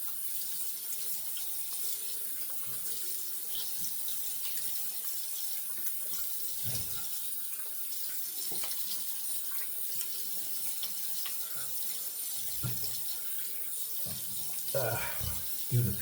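Tap water runs steadily from a faucet into a sink while a freshly shaved head is rinsed, a constant close hiss with a few louder splashes near the end.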